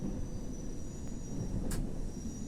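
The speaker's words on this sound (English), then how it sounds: "there's a train actually at the station" A London Underground train sits at Hammersmith station in World of Subways 3, giving a steady low rumble and hum with a brief hiss of air partway through.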